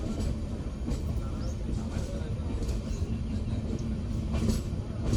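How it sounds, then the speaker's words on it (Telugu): An Amrit Bharat passenger train on its first commercial run rolls steadily along and switches tracks, giving a continuous low rumble with rhythmic wheel clatter heard from inside the coach. "మన ట్రైన్ పాము మెలుకులు తిరుగుతూ ట్రాక్స్ మారుతోంది."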